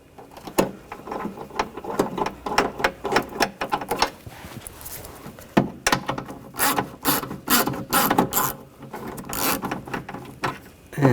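A ratchet drives a bolt into the rear window motor of a 2000–2005 BMW X5, giving bursts of close, sharp clicking strokes with short pauses between them and no talk.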